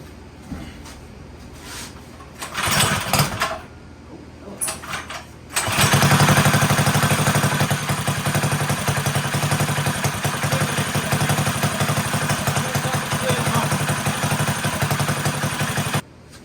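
A Manco Dingo go-kart engine rescued from the scrapyard sputters through a few short cranking attempts, then catches and runs at a steady, loud, rattling idle for about ten seconds before cutting off abruptly.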